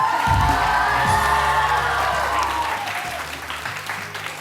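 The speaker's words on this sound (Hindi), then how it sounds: "आज या तालियां बजा सकते हैं आप लोग, कोई पाबंदी नहीं है।" Studio audience on a Pakistani TV morning show's Independence Day special breaks into loud, sustained applause with scattered cheers, the clapping close and dense before easing off slightly toward the end.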